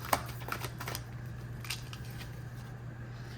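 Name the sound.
shuffling tarot cards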